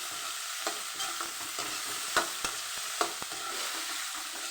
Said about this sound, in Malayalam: ഒന്ന് ഇളക്കി വഴറ്റാം.